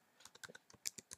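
Typing on a computer keyboard, a quick burst of about a dozen light, close key clicks in an uneven rhythm, quiet and alone.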